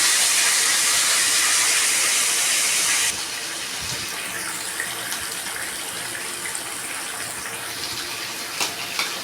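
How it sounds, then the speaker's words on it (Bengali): Steady loud sizzling hiss of climbing perch frying in hot oil, dropping to a quieter crackle partway through, with no voices. "এই যে মাছটা ভাজা হচ্ছে"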